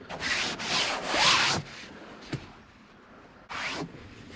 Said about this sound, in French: on va tartiner de colle à tapisserie dessus.